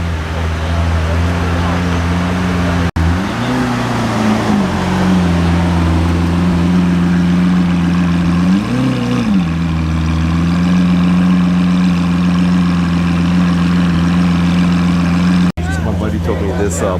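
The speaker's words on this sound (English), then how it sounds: "It's always good to get to a car meet a little bit early because you see a bunch of cars coming in." Car engines idle steadily at a car meet as vehicles arrive, with two short revs rising above the drone, close and loud, under ongoing chatter from people nearby.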